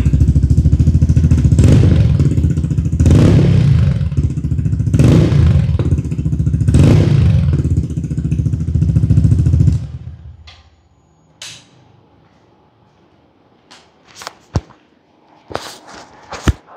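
A toy-build Yamaha PG1 motorcycle engine runs loud and close with its silencer canister removed, rising and falling in revs for about ten seconds before cutting off, followed by near quiet with a few sharp clicks and knocks.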